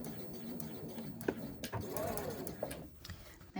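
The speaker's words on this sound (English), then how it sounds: "And we're going to back stitch." A sewing machine back stitches through a crossbody bag's fabric lining, giving a steady, fairly quiet mechanical whir with a few light clicks over a short stretch.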